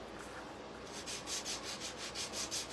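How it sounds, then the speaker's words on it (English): Wood on a hutch is sanded by hand with rhythmic back-and-forth rubbing strokes, about eight even, close swishes in quick succession and no voices. "I'm gonna sand"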